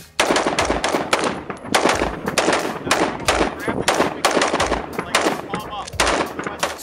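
M4A1 carbine gunfire, as in a Free Fire weapon comparison: loud, close bursts of rapid automatic shots with brief gaps between strings of fire.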